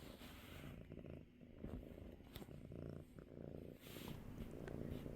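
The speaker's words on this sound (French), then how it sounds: "Je vous laisse avec les ronrons." A cat lying on a lap purrs softly and steadily in a close, quiet room, its rhythmic rumble rising and falling with each breath and no voices present.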